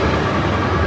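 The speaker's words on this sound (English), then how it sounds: "So it's gonna get a little noisy because the trains go by." Rumbling roar of a train passing by outdoors in a train town, loud, steady and close for a brief moment with no voices.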